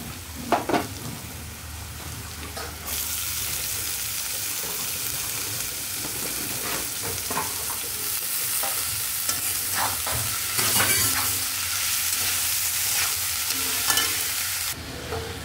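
Chopped banana stem fries in a pan while being stirred, giving a loud, continuous sizzle close by. Scattered scraping and clattering strokes of the spoon cut through the hiss.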